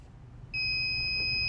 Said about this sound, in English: as you see, the beeping, it's not fast, it's not constant, it's a little slower.